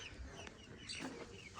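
Hens in a Pakistani village cluck faintly and intermittently as they are let out of a box in the early morning, soft and a little distant over quiet outdoor background.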